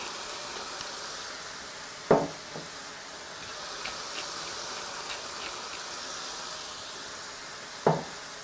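Food frying in a pan, a low steady sizzle that carries throughout, broken twice by sharp clacks of a utensil against the pan, close and with no talking.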